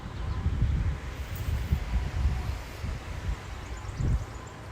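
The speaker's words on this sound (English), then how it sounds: "A little windy here, but I ain't afraid of no wind." Wind blows steadily outdoors on a morning in Indiana, a low rumbling gusty roar buffeting the microphone throughout, with faint rustling above it.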